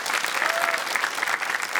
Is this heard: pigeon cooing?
no